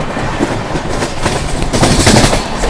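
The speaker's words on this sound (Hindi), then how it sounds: "track sound" An Indian express train runs through a station platform at about 130 km/h, a loud, continuous roar of wheels on track with rapid rhythmic clatter, heard close up with no voices.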